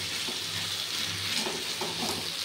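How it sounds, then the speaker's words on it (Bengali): Ginger, ridge gourd and potato sauté with spices in a pan, a steady broadband sizzle running throughout with soft stirring scrapes rising now and then, moderately close and continuous. "আদা ঝিঙে আলুটা দিয়ে খুব ভালোভাবে এটা কষিয়ে নিচ্ছি মশলাটার সাথে।"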